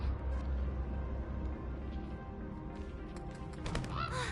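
A bird in Honkai Star Rail honks in a few goose-like calls over a busy background of ambient game sound, moderately loud and without speech.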